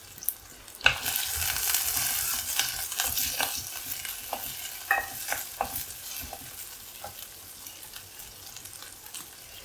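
Finely chopped ginger and other ingredients sautéing in a pan for a raw mango curry: a loud, close sizzle that eases off over time, with a spoon clacking and scraping in bursts and no talking.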